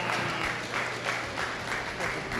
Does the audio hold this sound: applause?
yes